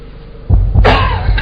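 A man coughs, a couple of heavy, close chesty bursts followed by a harsh, rasping exhale, loud and alone over a low background hum.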